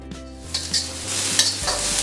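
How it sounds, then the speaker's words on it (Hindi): Onions sauté in a pan for chicken Manchurian, sizzling steadily while a spatula scrapes and stirs in short strokes, heard up close with no talk. "अब हम डालेंगे इसमें प्याज। प्याज को हम 1 मिनट सेक लेंगे।"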